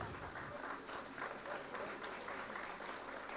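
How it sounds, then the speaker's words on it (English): An auditorium crowd at a school Founders Day celebration claps steadily but without much force, a soft, continuous patter of applause from a full hall with no standout claps. "but the claps are not loud"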